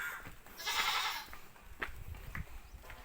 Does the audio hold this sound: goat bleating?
yes